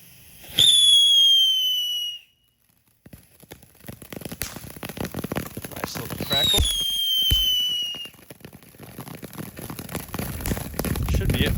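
Two rising whistles shriek one after another from a Black Cat whistling cuckoo firework, each followed by crackling bursts and pops, with wind noise and some talking in the background.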